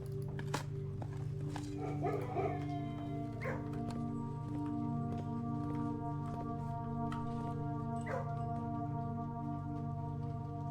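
A dog in the video game Blue Prince makes a few scattered short barks and yips over a continuous tonal music bed, fairly quiet and spread across several seconds.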